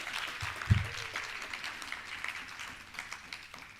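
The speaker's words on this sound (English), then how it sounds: "May I have a round of applause?" Audience applause in a conference hall at a maritime university industry event, a steady mid-level wash of clapping with one louder thump early on, continuing without talk.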